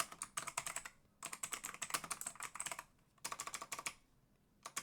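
Rapid bursts of computer keyboard typing come in quick clustered keystrokes, pausing briefly between runs, close and fairly clear with no talking.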